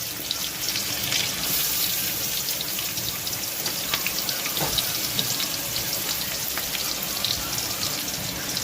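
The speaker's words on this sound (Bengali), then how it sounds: "দেখো পেঁয়াজ কুচিটা ছেড়ে দিলাম।" Chopped onion frying in hot oil with dried chilli, bay leaf and cumin, a continuous bright crackling sizzle heard close up, steady and even with no voices.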